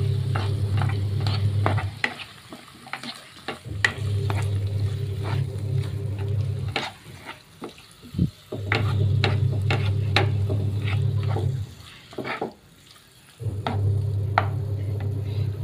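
Prawns in dark soy sauce are stirred in a pan, a close rhythmic scraping with low bubbling sizzle, pausing briefly a few times between bursts of stirring, with no voices.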